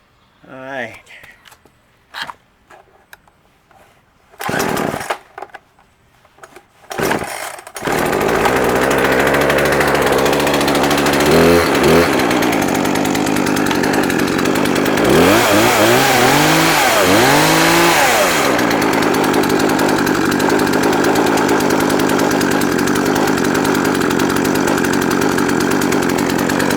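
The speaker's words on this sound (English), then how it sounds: "There she goes, a little Poulan chainsaw, a 42cc saw." A small Poulan 42cc chainsaw with a 16-inch bar and chain is pull-started with a few short sputters, then catches and runs loudly and continuously, rising into several throttle revs before settling back to a steady drone.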